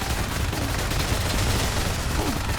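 Rapid-fire steak launcher weapon firing in WRATH: Aeon of Ruin, a constant loud dense stream of rapid shots with a heavy low thump throughout.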